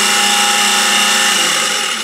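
A garbage disposal running dry with a loose grinding blade, giving a loud, steady mechanical whine and rattle that continues unbroken throughout, with no talking.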